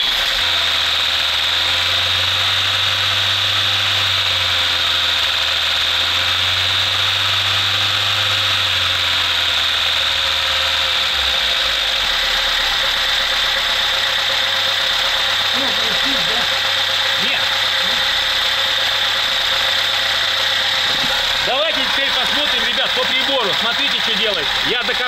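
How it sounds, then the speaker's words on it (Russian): VAZ car engine fitted with an Ozon carburetor, running with a steady loud mechanical drone and a low idle hum that shifts partway through, with brief faint voices near the end. "Заводим, пожалуйста, машину."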